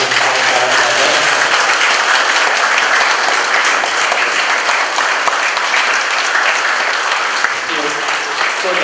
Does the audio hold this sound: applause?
yes